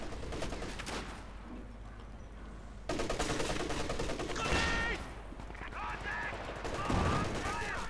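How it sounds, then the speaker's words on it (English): Browning light machine gun fire in the video game Company of Heroes 2, a dense, continuous rattle of automatic bursts amid battle noise and other gunfire, fairly quiet and steady throughout. "Again, lots of Browning light machine guns there"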